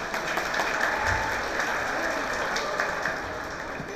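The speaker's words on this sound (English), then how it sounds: "You should clap louder for yourselves." Graduating students of the class of 2018 applaud at their graduation ceremony. Steady, dense clapping from a large crowd holds evenly throughout with no break.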